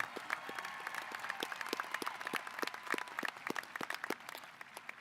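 Faint, scattered clapping from a high school graduation ceremony audience, individual claps distinct and somewhat distant, sustained for several seconds.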